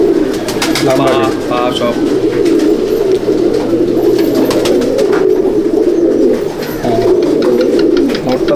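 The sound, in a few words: pigeons cooing in a pigeon loft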